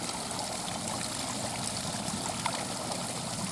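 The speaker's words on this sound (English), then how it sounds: "That's a really nice waterfall." Waterfall pouring during monsoon flooding, a faint, steady rushing wash of water heard from some distance, continuous and unbroken with no voices.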